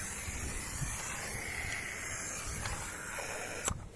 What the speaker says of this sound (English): To mark it, I'm using this can of spray paint